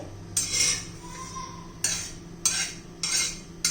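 Black cumin seeds dry-roasting in a pan over low gas, stirred with a utensil: four sharp metallic scrapes and clinks spaced a second or so apart, close and moderately loud against a quiet background hum.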